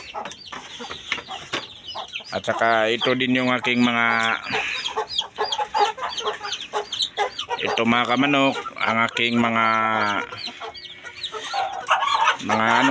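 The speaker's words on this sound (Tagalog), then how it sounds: "Tumitilaok na yan mga kamanok." Several roosters, native chickens, crow loudly in repeated long calls, overlapping at times, while someone speaks in between and beneath them.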